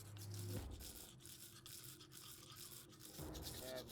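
Characters brushing their teeth in the point-and-click game Goodbye Deponia: steady, close scrubbing strokes of a toothbrush, rhythmic and repeated, with a brief low hum at the start and end and no speech.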